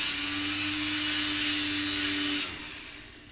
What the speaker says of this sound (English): And I'm just gonna run it on said sandpaper.